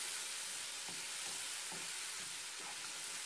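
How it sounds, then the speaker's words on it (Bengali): Spices being sautéed in a pan for a chicken and sweet pumpkin dish, a quiet, constant frying hiss with faint rhythmic stirring taps throughout. "এগুলো একটু কষিয়ে নিব মশলাগুলো"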